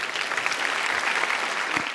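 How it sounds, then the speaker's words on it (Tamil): An audience claps steadily at a student speech competition, a dense, continuous applause without breaks. "உங்களுடைய பலத்த கரகோஷங்கள்"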